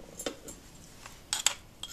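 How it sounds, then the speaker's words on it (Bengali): Food is poured and scraped into a bowl in a home kitchen, with a few sharp spoon-on-dish clinks and light clatter over a quiet background. "আমি এটা এখন একটা বাটিতে ঢেলে ফেলছি"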